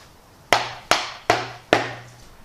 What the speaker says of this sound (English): I don't mind hitting it with the hammer to get the dowels out